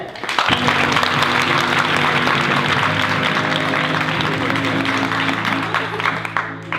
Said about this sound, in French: On peut applaudir très très fort s'il vous plaît.